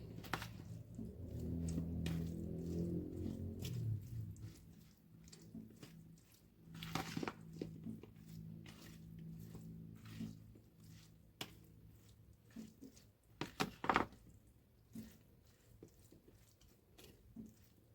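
Hands mix marinade ingredients for Moroccan chermoula olives, giving soft, wet squishing and irregular clicks, heavier at first and then sparse and quiet.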